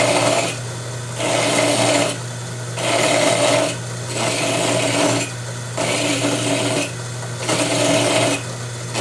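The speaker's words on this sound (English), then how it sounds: "You can't rush it, you just have to take it one little file at a time" A hand file works the edge of a coin ring in about five steady, evenly spaced rasping strokes, each scrape close and fairly loud, with short pauses and a low hum between them.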